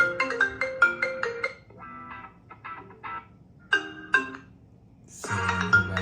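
A Samsung A27 phone plays ringtone previews: a quiet sequence of bright, bell-like melodic tones with short pauses, then a fuller, richer chime near the end, with no talk.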